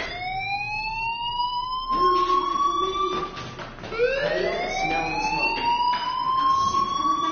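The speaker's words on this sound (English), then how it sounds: "do you hear that fire alarm? That means you should be outside." A fire alarm wails in the video game Life is Strange, its loud electronic tone sweeping repeatedly up and down, steady and alone with no talk.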